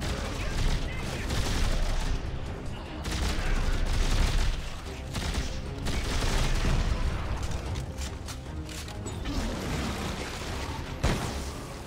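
Rapid gunfire from the game Dead Space 3 rattles in dense, continuous bursts layered with mechanical clatter and booms, loud and close throughout.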